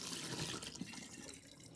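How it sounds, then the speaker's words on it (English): Water pours out of a hot glass jar into a sink in a steady, faint splashing stream for a moment, with no talking. "We're going to dump the water out."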